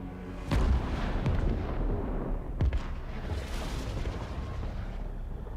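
Cyclops demolition vehicle detonating in a Warhammer animation: a sharp blast at the start, then a second, and a low rumbling roar that lingers loud and close throughout.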